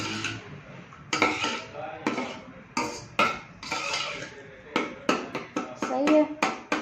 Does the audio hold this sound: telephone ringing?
no